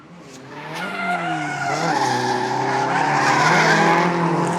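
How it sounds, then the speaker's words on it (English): Show cars drifting at an Australian event, loud and close: long layered tire squeal with wavering pitches rides over roaring, revving engines, building and holding for several seconds with no talk. "Let's film some drift cars, fam."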